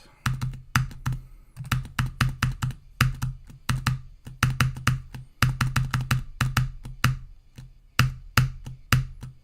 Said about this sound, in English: Your keyboard.